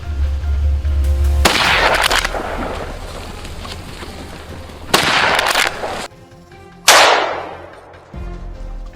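Gunfire aimed at a wild boar charging through mountain farmland: several loud, close, sharp blasts with long ringing decays, separated by noisy gaps, with no voices.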